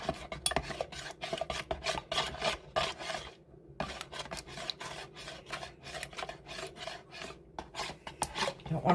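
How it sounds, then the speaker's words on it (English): Black colorant is stirred into melt-and-pour soap with rapid, rhythmic scraping strokes against the container, close and continuous apart from a brief pause midway. "Don't want to stir it too much either, like I'm doing."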